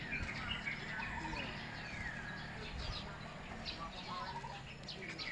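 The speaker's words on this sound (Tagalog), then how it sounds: "O diba, mga ibon yan." Many birds chirp and call from a nara tree where they roost at night in Bicol, a dense, continuous chatter at a moderate distance, faint and unbroken.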